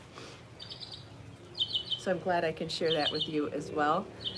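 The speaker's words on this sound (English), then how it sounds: "even with all the doors and windows closed in the house, you can hear the birds outside." Bright bird chirps twitter faintly in the background while someone speaks clearly over them.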